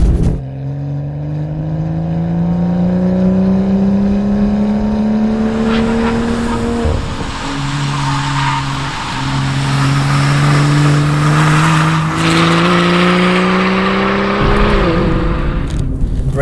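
A BMW M2 GTS race car laps a track at Bedford with its exhaust valves open, its engine loud and close as it revs steadily upward through the gears with brief dips at each shift.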